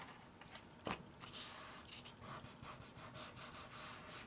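A brayer rolls back and forth over paper in soft, repeated rubbing strokes, quiet and close, with a light tap early on.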